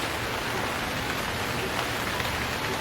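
Rain in the video game Stranded Deep, a dense, even hiss of falling drops on surfaces, steady and unbroken for a few seconds with no voices.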